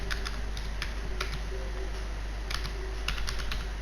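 Someone types on a computer keyboard while writing a program, with quick clusters of close keystroke clicks in short bursts over a steady low background hum.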